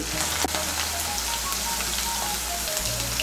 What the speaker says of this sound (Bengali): মিশিয়ে নিয়ে আলুটাকে ভেজে নেব